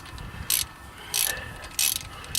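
A 3/8 ratchet loosens bolts on a wheel hub of a first-generation Chevrolet Colorado, three bursts of rapid metallic clicking spaced under a second apart, close and fairly loud against a quiet shop background.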